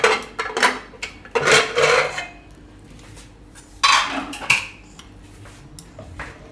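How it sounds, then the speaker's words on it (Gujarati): A metal pressure cooker lid is worked open after boiling chickpeas, giving a run of close scraping, clinking metal and rattling bursts with quieter gaps between, no talking. "તો કુકર આપણે હવે ખોલીને જોઈ લેવું."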